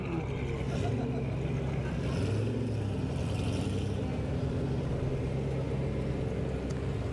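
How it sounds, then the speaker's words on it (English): A supercar with a broken exhaust idles and revs at a supercar show on an aerodrome, a deep rumbling engine drone that swells and eases slightly, with distant talk underneath. "The exhaust is broken for sure"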